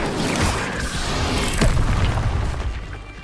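Booming blast of the Incendio fire spell in Hogwarts Legacy, a sustained roaring burst with crackling impacts that swells midway and fades toward the end.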